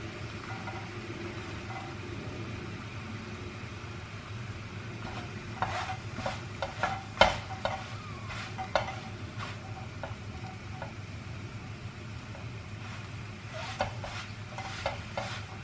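Quiet steady sizzle of a crepe frying in a pan, with a few light scraping and tapping sounds from a utensil partway through.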